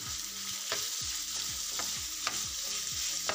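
Chicken mince sizzles in a pan with garlic ginger paste, a steady hiss punctuated by regular scraping strokes of a spoon stirring the meat, close up and without talk.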